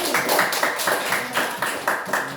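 A class claps for a student group after its presentation, a fairly close, small group clapping in a loose, pulsing rhythm with regular accented beats, no talk over it.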